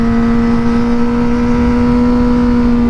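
A 2008 Honda CBR600RR sport bike engine held at high revs, a loud, steady, droning whine with no pauses.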